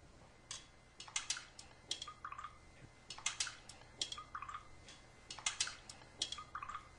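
Cups of water samples are stirred, giving quiet, sparse clinks and ticks of a utensil against the cups in short irregular clusters over a faint steady hum.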